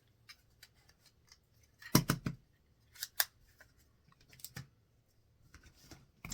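Sharp scissors snip through doubled sheets of map paper for a folded pansy-style paper flower, giving scattered crisp cuts in small bursts with quiet gaps between them, close up and with no voices.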